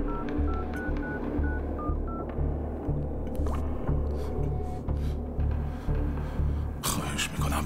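A telephone keypad is dialed, a quick series of distinct beeping tones sounding one after another in an irregular rhythm over a background hum, with a rustling burst near the end.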